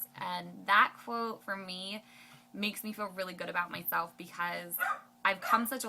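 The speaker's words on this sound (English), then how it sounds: "I'm so sorry about the dogs." Several dogs bark and yip in short bursts behind someone speaking steadily, the barks loud and close and punctuating her talk throughout.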